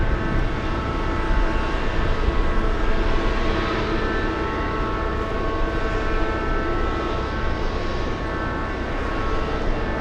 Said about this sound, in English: The blue JetBlue coming in.